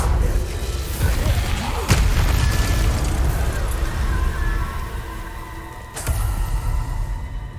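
Confringo fire spell blasts in Hogwarts Legacy, two sharp explosive booms about four seconds apart over a dense, rumbling battle din with crackling high-end debris.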